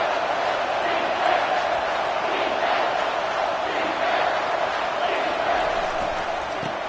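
A packed football stadium roars steadily for a big third-down defensive stand, a dense, loud wall of crowd noise that holds throughout with small swells and no clear speech on top.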